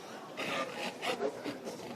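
Small portable drill press working through a wooden pen blank, giving a quiet, raspy grinding that comes in repeated rhythmic strokes, close and low in level, with no talk.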